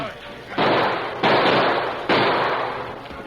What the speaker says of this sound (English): Moving amongst the boulders with blazing guns, the Lone Ranger finally came upon the man he had hoped to find, Jim Nolan.